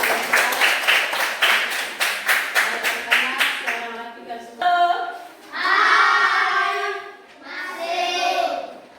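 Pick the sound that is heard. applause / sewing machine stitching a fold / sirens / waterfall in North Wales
applause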